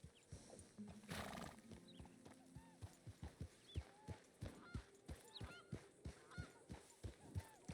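Horses at a jumping arena in Red Dead Redemption 2 (RedM), with a steady run of hoof clip-clops close by, a neigh near the start, and a few goose-like honks in the background.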